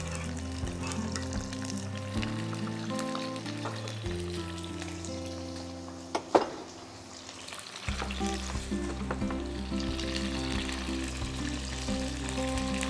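Tomatoes sizzle and crackle in hot oil in a pan, a continuous frying hiss with background music, briefly broken by a stir or knock at the midpoint.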